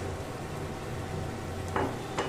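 Coriander, cumin and turmeric powders frying with onion, ginger and garlic for chicken patty filling, a dense close sizzle with two quick scraping stirs near the end.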